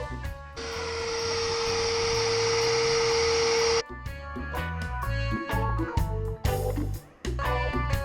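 A power sander on wooden boat cabin sides runs with a steady high whine for a few seconds, then stops, followed by clattering mixed noises and tonal music-like sounds.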